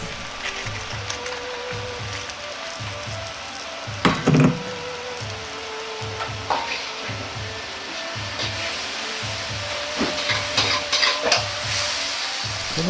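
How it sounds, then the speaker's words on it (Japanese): Hot oil sizzles and crackles steadily as fried rice cakes are dropped into a clay pot, with a few sharp knocks and clatters, no talking. "温めた土鍋に揚げたお餅を入れていきます。"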